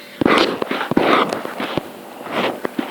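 Explosions in the Minecraft video game, several sharp cracks and bursts in quick succession with broadband blasts, fairly loud and close.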